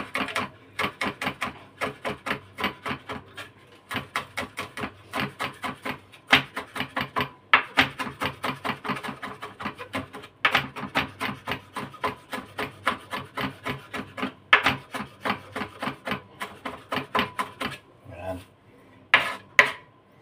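Rapid, rhythmic knife chops on a wooden board as garlic is minced finely, dense bursts of tapping strokes separated by brief pauses, close and crisp, alone without talk.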